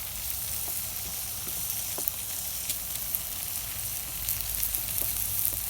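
Steaks sizzle steadily in oil, butter and lemon juice with salt and black pepper on a STOK drum grill, a continuous close frying hiss with occasional small pops and crackles throughout.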